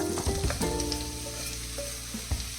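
Vegetables hit hot coconut oil in a pan for a Kerala mezhukkupuratti, giving a steady close sizzle with a few clinks and stirring knocks. No one speaks.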